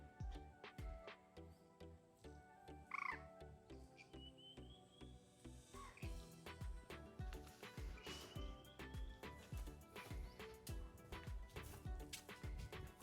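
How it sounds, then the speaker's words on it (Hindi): Birds call and chirp in Van Vihar National Park, Bhopal, near a lotus pond, as scattered faint whistles and tweets over a dense, ticking outdoor background, with no talking. "यहाँ पे पक्षियों की आवाज़ आ रही है"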